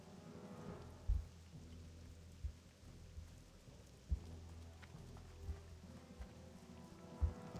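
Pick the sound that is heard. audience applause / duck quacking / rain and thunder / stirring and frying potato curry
rain and thunder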